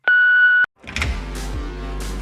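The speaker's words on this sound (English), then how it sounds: "leave your message after the beep" A single steady electronic beep lasting about half a second, then a brief silence before other sounds begin.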